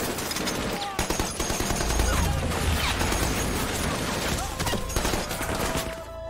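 Dense machine-gun and rifle fire rattle in continuous bursts during a war-film battle on a Guadalcanal beach in the Pacific War, loud and close with crashes mixed in and no audible talk.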